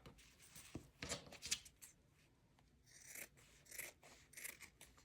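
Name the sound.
cutting with scissors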